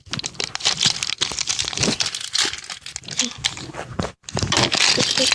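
Plastic vinyl wrapping crinkles and crunches in dense, close bursts that carry on almost without a break, with only a short pause near the end.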